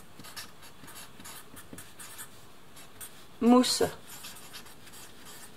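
A pen scratches across paper in short, quiet strokes while a sketch is redrawn, and a voice speaks briefly partway through.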